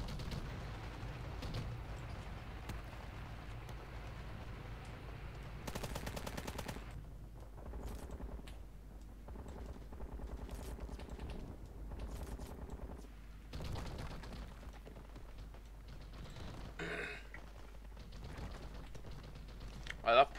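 Machine gun fire rattles in bursts through a Call To Arms skirmish battle in the video game, fairly faint rapid fusillades layered under game ambience and a voice talking.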